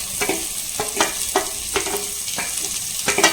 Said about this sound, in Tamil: ஆனியன், கேரட், கிரீன் சில்லி இது மூணுமே நம்ம இப்போ சேர்த்துக்கலாம்.